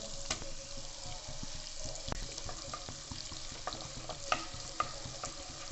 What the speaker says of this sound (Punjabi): ਆਪਾਂ ਇਹਦੇ ਵਿੱਚ ਪਾਵਾਂਗੇ ਜੀ ਥੋੜੇ ਜਿਹੇ ਪਿਆਜ਼